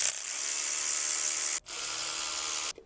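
A power tool unbolts the power steering fluid reservoir on a BMW, a steady high-pitched buzzing whine close by that stops briefly partway through, resumes, then cuts off abruptly.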